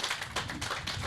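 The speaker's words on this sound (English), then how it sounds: "Please, a round of applause for these guys." Applause for coworkers at an event: a short burst of dense clapping from an audience, with rhythmic bursts of hand claps filling the hall.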